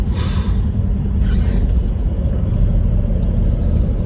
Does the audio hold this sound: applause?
no